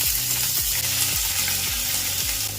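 Finely chopped onion fries in hot oil in a pan for Kannada-style dal kichadi, a steady close sizzle with faint stirring scrapes at a regular rhythm, no voices.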